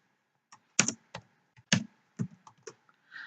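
Computer keyboard keys tapped in short uneven bursts while writing simple HTML code, close and fairly quiet, a handful of clicks alone with no talk.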